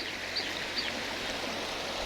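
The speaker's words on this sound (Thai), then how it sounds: "เดี๋ยวให้ชมลำธารก่อน" A small stream beside a plot of land near a waterfall in Chaom, Kaeng Khoi, Saraburi, Thailand, flows with a steady close rushing babble and faint bird chirps, no talking.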